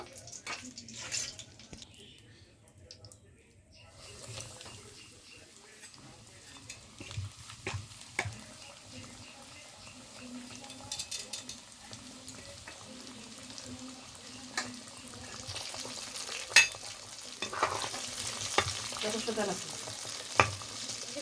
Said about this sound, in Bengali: বাকিগুলো এভাবে ভেজে নেব